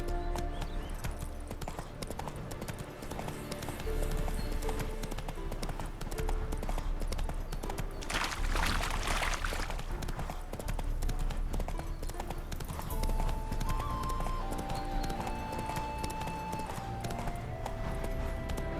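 Horse hooves clip-clopping steadily in The Witcher 3 video game, a continuous rhythmic trot under background music and ambient game sounds, with a brief whoosh partway through.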